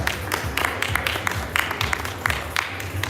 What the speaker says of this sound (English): please do join in with a nice warm round of applause.